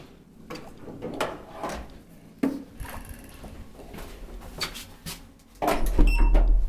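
Old ASEA-Graham traction elevator inner doors in a hotel, opening and closing with a series of separate clunks, rattles and sliding scrapes, then a louder mechanical rumble near the end, heard up close with no talk.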